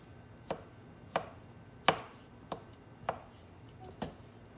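A knife chops beets on a cutting board with six sharp, separate knocks at an uneven pace. The strikes sound close and crisp over a quiet background, with no talking.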